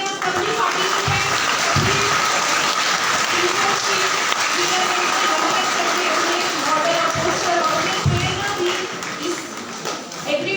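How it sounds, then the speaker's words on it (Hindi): Loud, dense crowd applause at an agricultural festival held at a government horticulture venue, clapping continuously for all participants and holding steady for about ten seconds. "एक बार जोरदार तालियां सभी पार्टिसिपेंट"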